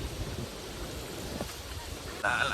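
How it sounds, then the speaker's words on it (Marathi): A small spring-fed stream runs beside a farm field, giving a faint, steady rushing of water that holds evenly throughout. "बघा आवाज येत असेल झऱ्याचा पाण्याचा झरा आहे"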